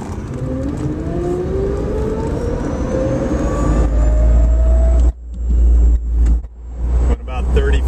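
An electric Porsche 914 conversion drives on a road in slow rush-hour traffic, its motor whine rising steadily in pitch over road rumble, then breaking off abruptly into brief uneven lurches.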